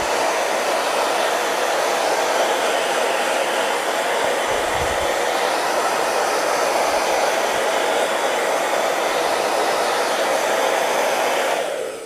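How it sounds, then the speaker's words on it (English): A hairdryer blows continuously at close range onto a gel plate print, giving a loud, steady whooshing roar that runs unbroken and cuts off at the very end. No one speaks. "I'll just give this a bit of a burst with the hairdryer."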